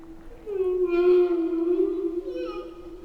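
A humpback whale sings a single long, sustained tonal moan that holds steady and then slightly bends, rich in harmonics and heard alone.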